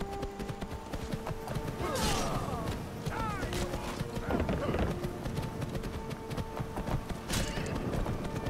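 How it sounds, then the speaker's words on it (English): Horse hooves clip-clop through a noisy fight in the video game Skyrim, with a few brief neighs and whinnies rising over game clatter while a person talks. "Get my horse."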